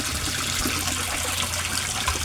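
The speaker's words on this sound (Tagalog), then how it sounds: "So ang ginagamit ko na submersible pump, ang lakas-lakas niya pero ang tipid-tipid niyang kumain ng kuryente" A submersible pump churns water and bubbles in a koi pond, a steady close gushing and bubbling with no voices.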